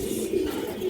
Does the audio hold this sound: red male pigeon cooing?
yes